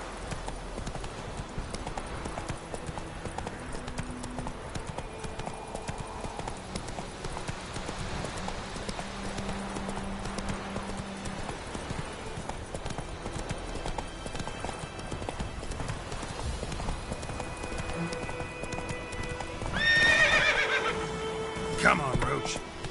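Roach, a horse in The Witcher 3 game, gallops with steady clip-clop hoofbeats under a busy game soundscape, with a whinny and louder burst near the end; a voice speaks over it.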